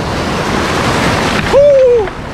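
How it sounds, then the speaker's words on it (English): Lake waves splash and wash against the shore at a backcountry campsite on the Bruce Peninsula, a loud continuous close rush of surf with a brief whistling tone near the end. "we got a lot of waves out here"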